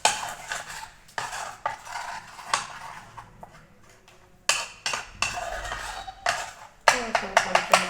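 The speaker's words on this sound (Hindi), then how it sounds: "मैं इसको अच्छे से फेंट लूँगी ताकि इसके अंदर गुठलियाँ ना रहें" A spoon beats a fried chicken coating batter in a bowl, giving repeated scraping and clinking strokes against the sides in uneven bursts, with pauses between runs of whisking, fairly close and clear.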